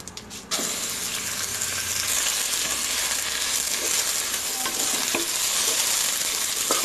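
Cumin and rice hit a hot pan for jeera rice, bursting into a loud hiss after a brief quiet moment and then sizzling steadily, with faint stirring scrapes underneath.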